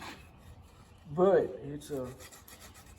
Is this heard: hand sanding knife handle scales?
yes